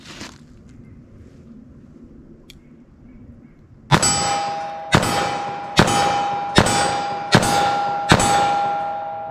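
.38 Special +P+ revolver with a 4-inch barrel fires six loud, sharp reports with ringing metallic decay, spaced roughly a second apart after a quiet stretch of faint outdoor background.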